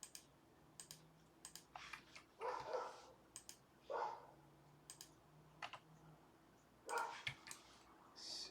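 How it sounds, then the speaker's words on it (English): A dog barks somewhere in the neighborhood, three or four faint, distant barks spaced several seconds apart, mixed with the closer clicking of a computer keyboard being typed on. "Here's some dog barking in the background of my neighborhood."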